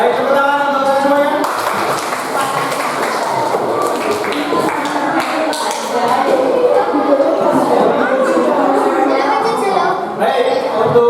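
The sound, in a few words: classroom applause for everyone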